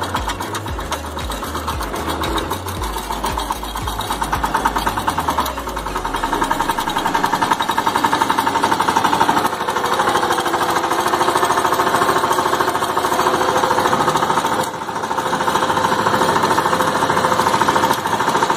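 A VST power tiller engine runs in second gear, a steady, close, mechanical chugging with a fast rhythmic knock throughout and a low thumping pulse in the opening seconds, with no talk.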